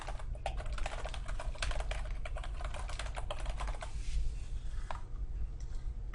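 Rapid clicking keystrokes on a computer keyboard, a close, busy patter of taps with small pauses, slowing and thinning out toward the end.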